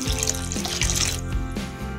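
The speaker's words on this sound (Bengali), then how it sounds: "আমি আরেকটু এর মধ্যে জল অ্যাড করবো।" Tap water runs steadily into a pot of oats for a few seconds, a close, continuous splashing stream with small shifts in tone and no talk.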